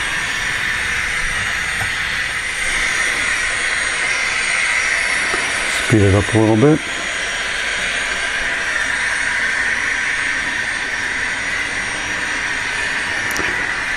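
A pair of model GTEL 4500 turbine locomotives haul a long train up a 2% grade helix, making a steady, loud hissing whine that runs throughout, with someone briefly speaking midway.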